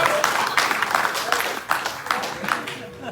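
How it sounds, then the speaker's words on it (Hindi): Audience clapping at a Hindu wedding ceremony, a dense burst of hand claps with a pulsing rhythm, fairly close and continuous through the short stretch. "इसके लिए 2 बार तालियां बजाएंगे"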